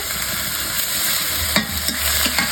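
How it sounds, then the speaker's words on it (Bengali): Onion, garlic and ginger paste fry in a hot pan for a fish bhuna, a steady close sizzle with a few sharp stirring scrapes near the end, no voices. "আদা বাটা দিয়ে দিলাম এটা এখন বেশি করে ভেজে তারপরে বাকি মশলা দিব"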